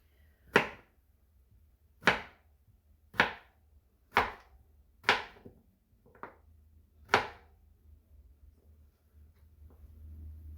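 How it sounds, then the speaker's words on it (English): A knife chops sharply through firm raw yam, six distinct cuts spaced about a second apart against a quiet background. "So this one, I'm going to be cutting like this."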